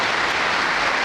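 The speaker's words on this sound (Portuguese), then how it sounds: "Vamos aplaudir o nosso queridíssimo Marcel Souto-Maior." A dense, steady round of applause from a conference audience in São Paulo fills the whole moment without letup, warm and close, with no voices rising above it.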